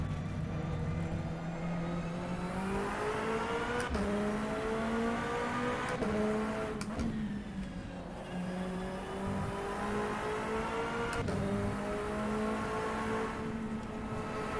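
A 4-cylinder prototype race car engine in rFactor 2 drones loudly and continuously, its pitch climbing through gears with brief dips at each shift, steady and close with no talk.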